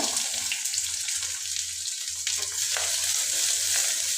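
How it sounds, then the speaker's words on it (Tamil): Green chillies and onions frying in hot oil in a kadai after cumin crackles, a bright continuous sizzle with light stirring, close and steady, no talk. "சீரகம் நல்லா பொரிஞ்சதுக்கப்புறம் பச்சை மிளகா வெங்காயம் சேர்த்துக்கோங்க"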